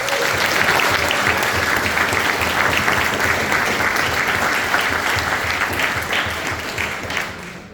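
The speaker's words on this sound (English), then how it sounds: "And I wanted to give them a rousing round of applause." Sustained applause from an audience at a council forum for older persons, a dense, loud wash of many hands clapping that holds steady for several seconds before easing slightly at the end.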